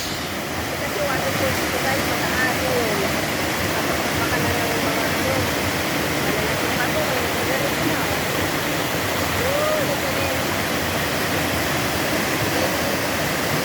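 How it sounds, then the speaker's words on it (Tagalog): A river waterfall after heavy rain pours with strong flowing water, a loud, dense, unbroken roar that holds steady throughout and sounds close by. "Waterfalls ito, waterfalls."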